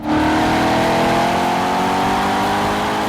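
2009 Chevrolet Corvette convertible with dual-mode exhaust under heavy acceleration, a loud continuous roar rising steadily in pitch, close and alone.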